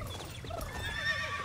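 A horse whinnies in the video game Autumn Riders, a short, fairly loud neigh with faint hoof clip-clop beneath it and no talking.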